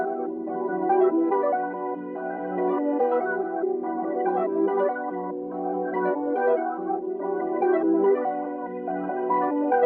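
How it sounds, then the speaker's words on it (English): An FL Studio hip-hop beat built from 808 bass, a looping melody and percussion plays steadily and loud, with dense layered tones and no voice over it. "I just introduced the 808s and some of the percussion"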